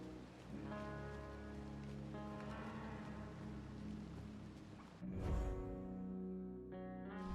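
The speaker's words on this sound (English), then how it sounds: "I like the rain." Steady rain in the video game Mortal Shell 2, a continuous broadband hiss with soft tonal music layered over it, swelling briefly near the end before settling back to an even wash.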